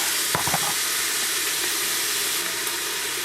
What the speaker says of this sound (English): kind of saute these just a little bit in the bacon grease.